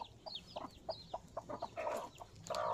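An aggressive hen clucks among other chickens, a run of short, close, irregular clucks and squawks that grow louder and more insistent toward the end.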